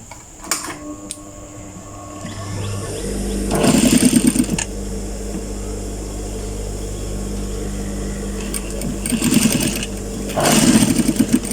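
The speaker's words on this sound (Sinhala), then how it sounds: "ඒතර ඉස්සරලා මහන්නේ අපි අංක 2 ප්ලේට් එක" A sewing machine stitches a fabric pleat in loud, close bursts of rapid needle rattle. Quieter stretches with a low motor hum separate the bursts.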